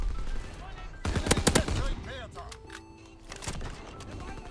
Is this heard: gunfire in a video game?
yes